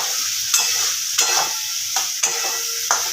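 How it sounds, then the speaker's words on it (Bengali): Egg curry with garam masala being stirred in a hot pan: a soft continuous sizzle with about five distinct scraping strokes of a spoon at regular intervals, heard up close with no voices. "এবার ভালো করে এটাকে সমস্ত একসাথে মিশিয়ে নিতে হবে"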